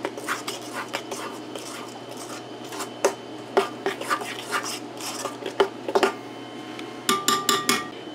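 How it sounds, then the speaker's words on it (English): A spoon scrapes and clinks against a bowl as walnut pie filling with coarsely chopped nuts is stirred by hand, a quick irregular rhythm of close taps ending in a rapid burst of knocks. "I could have just went ahead and whisked it, but I'd rather hand stir it"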